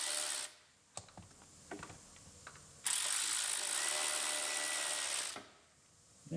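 Ratchet wrench clicking and cranking while bolts are removed on a vehicle, with a few sharp metallic ticks followed by a long steady burst of mechanical noise close by.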